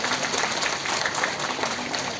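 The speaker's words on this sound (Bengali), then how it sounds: "দিদিদের কাছে আরো জোরে করতালি আমরা আশা করছি।" Applause from the audience at a BJP political rally, a steady patter of many hands clapping at moderate volume, fairly even across the short stretch with no voices.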